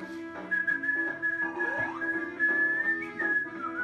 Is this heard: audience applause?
no